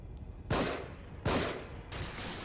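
Three sharp gunshot bursts from The Evil Within ring out about every three-quarters of a second, each with a short echoing tail, at moderate volume and without any speech.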